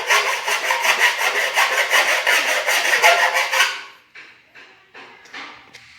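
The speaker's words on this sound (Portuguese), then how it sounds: "utilizarem uma lima ou uma lixa grossa para poder retirar a rebarba do alumínio" A hand file or coarse sandpaper scrapes the burr off an aluminium piece for a homemade eco-fireplace. Quick, even rasping strokes repeat for about four seconds, followed by a few slower, separate scrapes.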